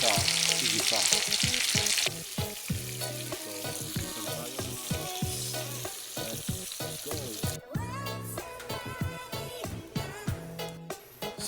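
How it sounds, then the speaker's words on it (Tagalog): Tofu and beef liver fry in hot oil with a steady, loud sizzle, stirred with repeated clacks of a utensil against the pan, and the crackling continues throughout. "Iprito lang natin ng konti bago natin siya igisa."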